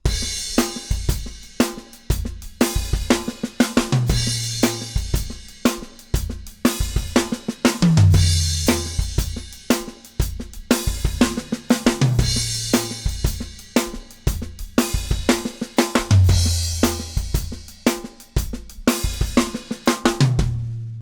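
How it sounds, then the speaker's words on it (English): A drum kit plays a shuffle groove leading into fills, with an opened hi-hat washing on beat two and splashed hi-hat hits after, kick and snare punching in a steady swung rhythm, close and loud with no talking. "In that example, I also opened the hi-hat on beat 2 and just created that wash and then splashed the hi-hat for the next 2 beats"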